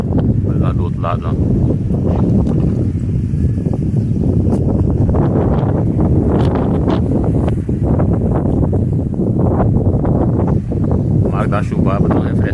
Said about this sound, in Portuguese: Olha aqui, ó, ventania, aqui, ó, barulho de vento.